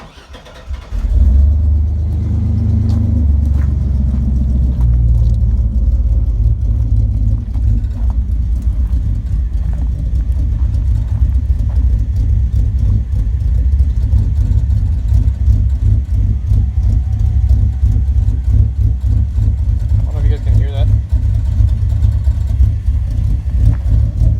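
A truck engine starts and settles into a deep, rumbling run, steady low throb with a faint intake hiss, loud and close for the whole stretch.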